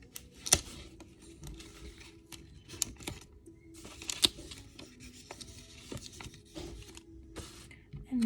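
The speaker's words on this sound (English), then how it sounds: "I'm gonna tape some ears onto it." Paper ears are pressed and taped onto a piggy bank, with close, quiet crinkling, rubbing and tape crackles broken by a few sharp snaps and pauses, and no talking.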